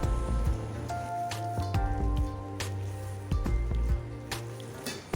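Minced mutton is worked by hand with roasted gram flour, giving close, wet squishing and soft slapping sounds in an uneven rhythm, with small sticky drips and presses and no talking.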